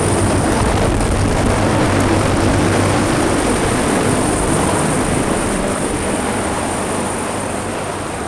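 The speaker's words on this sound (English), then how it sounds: "I heard this random helicopter." A loud, steady rotor roar with a droning hum fills the air continuously, like a helicopter flying close overhead.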